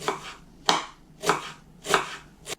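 Five rhythmic knife chops dicing onion land on a board at an even pace, sharp close knocks separated by brief quiet gaps.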